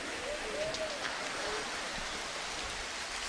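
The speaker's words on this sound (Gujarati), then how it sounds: "આ બધા વાદળ હોય ને એના કારણે વરસાદ પડવા માંડ્યો." Rain falling from clouds as a steady, dense hiss with no breaks, fairly loud and even throughout, while a voice is faintly heard beneath it.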